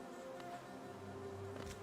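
A swarm of bees in the video game Hollow Knight makes a faint, steady buzzing drone with a slight wavering hum, heard quietly on its own without speech.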